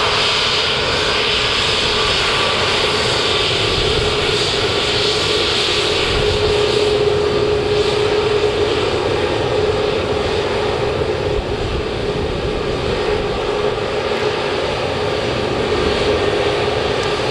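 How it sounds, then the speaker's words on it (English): A Jet2 Airbus A321neo airliner at Manchester Airport gives off a steady, loud jet engine roar with a faint rising whine, continuous for over seventeen seconds and heard alone. "Airbus A321neo."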